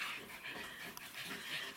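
A dog pants rapidly and close by, with steady breathy rhythmic huffs running through the whole moment, with a faint whimper now and then.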